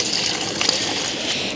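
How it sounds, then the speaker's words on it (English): Lukewarm water gushing and splashing as it is poured into a Thetford toilet holding tank, a continuous close liquid rush lasting about a second and a half. "pour the rest of the 5 litres of lukewarm water into the tank."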